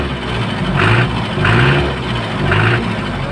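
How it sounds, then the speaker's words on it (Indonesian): A diesel engine in a Rhino hardtop is revved in three surges over a steady running drone, each rise lifting the pitch before it settles back, loud and close with no talking. "Kita coba gas nih bos yuk."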